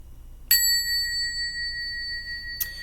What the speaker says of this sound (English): We're going to ring the bell, ladies and gentlemen, to clean the energy one more again.